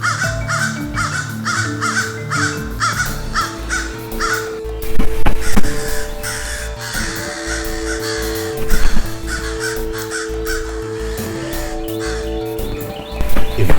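Crows caw in a steady, repeated series of loud, harsh calls, with a second layer of cawing and other bird noise underneath, close and continuous throughout.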